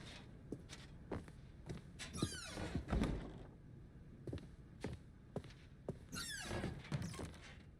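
A door moving in The Stanley Parable, with soft thunks, taps and a couple of sliding, squeaky sweeps, heard fairly quietly among scattered knocks and footstep-like sounds.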